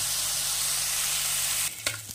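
Small chuno fish spread out and frying in a pan give a steady close sizzle, which drops to quieter crackles near the end with a couple of sharp spatula scrapes.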